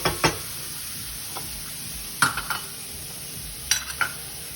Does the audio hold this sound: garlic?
yes